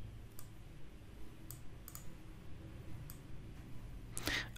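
Quiet, sparse clicks of a computer keyboard as a script is typed, scattered irregular taps over a soft background hum, with one louder clack at the end.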